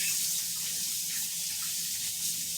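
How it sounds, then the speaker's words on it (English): Tap water runs steadily over hands at a kitchen sink, a constant hissing splash that stays close and even from start to finish. "Let me wash my hands."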